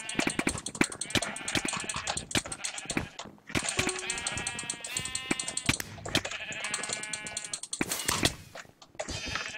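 Sheep bleating in the video game Minecraft during a Sheep Quest minigame, repeated loud close bleats in quick succession with short gaps and some faint clip-clop of movement in between.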